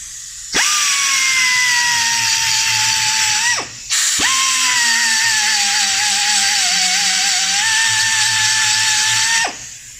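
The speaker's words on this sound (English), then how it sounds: "So there's a little die grinder." A high-pitched die grinder enlarging painted bolt holes on a Ram 1500 whines steadily at close range, stopping briefly once before spinning back up and running on, its pitch wavering under load.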